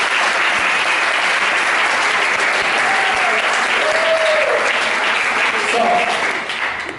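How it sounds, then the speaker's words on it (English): An audience gives a round of applause, a loud, steady, dense clapping that continues for about seven seconds, with a voice faintly heard underneath. "Let's give a round of applause for this beautiful girl."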